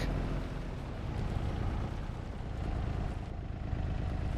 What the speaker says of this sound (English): This one sounds like it's a truck.